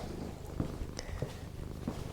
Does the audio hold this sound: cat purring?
yes